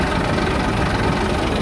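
A 1998 Massey Ferguson 240 tractor with a Perkins engine idles steadily, a continuous low rumble with an even, unbroken drone throughout and no talking.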